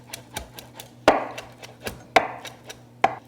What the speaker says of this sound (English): I take them and roll them and cut them into long little ribbons first, and then chop the rest of it.